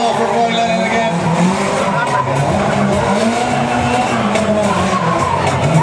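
Drift car at a Prodrift round in Ennis, Co Clare, sliding near a wall with tyres squealing over a loud, steady engine roar, with commentary talking over it.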